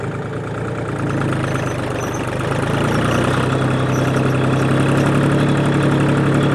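A tractor engine runs steadily and loudly throughout, with a continuous low-to-mid idle drone during field weeding work and no voices.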